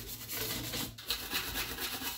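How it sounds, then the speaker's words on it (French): A small brush scrubbing the corners of a stainless steel kitchen sink, a steady soft rasping rub with quick back-and-forth strokes, fairly quiet and continuous with no talk. "Pour les petits recoins, n'hésitez pas à prendre une petite brosse comme ceci pour pas vous abîmer les mains. On va frotter comme ça."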